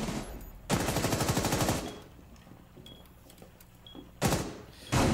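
Automatic gunfire rattles in Rainbow Six Siege, a loud sustained burst of rapid shots, then a quieter stretch of game sounds before two more short loud bursts near the end.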